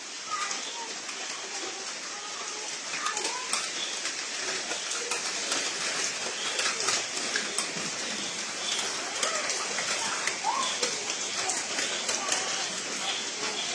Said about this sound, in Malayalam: ഭയങ്കരമായ മഴ.